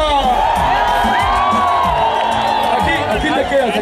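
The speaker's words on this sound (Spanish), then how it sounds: "¡Aplausos para Lidia!" Crowd at a Semana Santa show in Bahía de Kino cheering and applauding for Lidia, loud continuous whoops and shouts blended with clapping, close and sustained throughout.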